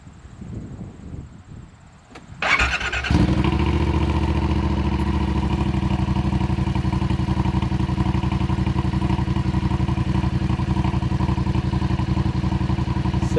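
A Yamaha Rmax 1000 side-by-side fitted with an aftermarket performance muffler starts up after a quiet moment and settles into a loud, steady, throaty idle. The engine rumbles close by and continuously for the rest of the clip, with no talking.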